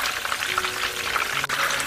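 Battered shrimp deep-frying in hot oil in a pan, a steady dense crackle and sizzle that holds at a constant level throughout, close and alone with no voices.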